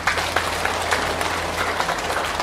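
Audience applause at a Vietnamese Buddhist talk, a short steady patter of many hands clapping, moderately faint and continuous, with no voice over it.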